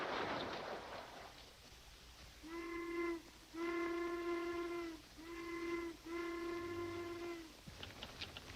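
A steam train whistle sounds as the train pulls out, sounding in several long and short blasts with brief gaps between them, loud and close over a rumbling background, with no voices.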